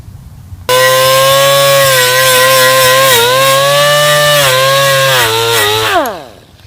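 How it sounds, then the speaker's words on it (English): A power wire wheel scuffs the shiny finish off a chrome engine timing cover. It starts abruptly as a loud, steady, high-pitched motor whine that wavers slightly under load for several seconds, then winds down as it spins to a stop. "anytime you're using a wire wheel"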